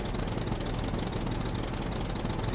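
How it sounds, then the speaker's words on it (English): In the SCUM video game, a tractor engine runs loud and constant, a dense rattling, knocking drone with no let-up and no talk over it. "this tractor, man, this is going to attract every single zombie within miles. This thing is so loud."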